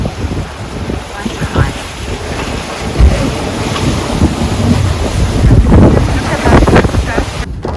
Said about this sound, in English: The waves are quite high.